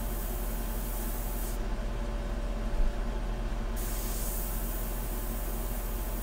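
An airbrush sprays India ink onto a portrait painting in a steady soft hiss, briefly dropping away mid-clip before resuming, with a constant low hum in the room.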